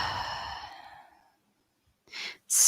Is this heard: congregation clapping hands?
no